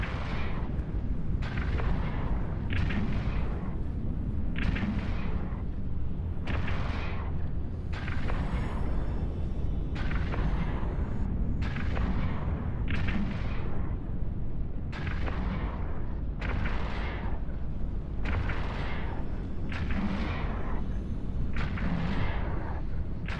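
Ship guns in the space game Eve Online firing in a steady series of heavy booming shots, roughly one each second or two, loud and continuous with no voices.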